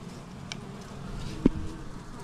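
Honey bees buzz around an open hive, a soft continuous hum close to the microphone with a brief louder buzz as one passes near.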